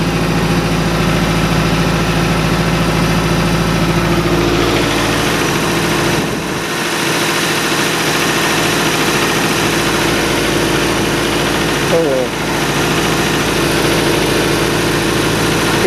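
A MerCruiser 3.7L boat engine on points and condenser runs in reverse at 2000 RPM with a worn gimbal bearing, a loud steady drone with a low throb and a brief dip near the end, no talking.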